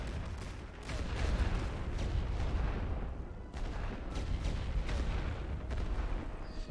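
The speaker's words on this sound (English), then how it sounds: "Well-timed artillery to disrupt their attack a little bit." Artillery fire in a World War I video game rumbles without pause as a dense barrage of booming detonations and crackling gunfire, loud and continuous with no talk.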